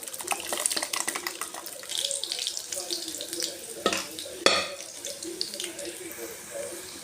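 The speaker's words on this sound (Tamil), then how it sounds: "இப்போ தண்ணி இன்னும் கொஞ்சம் தேவையான அளவு ஊற்றிக்கிங்க." Water pours and splashes steadily into a cooking pot of sambar with cooked lentils, a continuous trickling rush with a couple of sharp clinks partway through.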